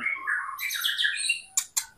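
A female white-rumped shama sings a rich, varied warbling phrase close by, ending with two sharp, bright chirps.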